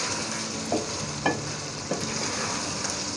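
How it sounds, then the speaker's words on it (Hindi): Green chillies frying with boiled mutton in a pot for a stew, a steady sizzle with a few sharp scraping stirs of a spoon against the metal, close and moderately loud. "अब जनाब हम सिर्फ 2 से 3 मिनट इसको भूनेंगे"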